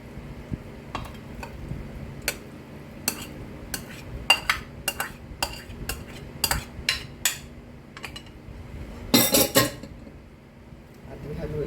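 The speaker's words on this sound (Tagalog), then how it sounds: "Haluin na lang po para umokay na siya." A spoon stirs creamy shredded chicken macaroni salad in a bowl, giving a run of soft scrapes and sharp clinks against the dish at an irregular rhythm.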